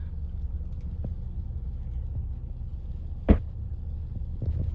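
A 2-door base manual Ford Bronco rolls along in crawler gear with no pedals pressed, giving a low, steady engine rumble with one sharp knock partway through.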